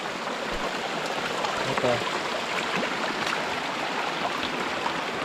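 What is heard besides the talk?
mountain spring water flowing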